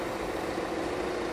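A Fiat Egea car engine idles with a steady, even low hum that stays close and constant for the whole short stretch.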